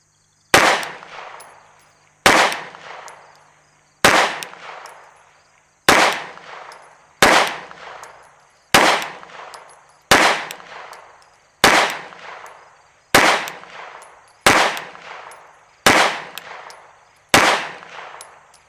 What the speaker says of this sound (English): Going to shoot a group at the bottom right target.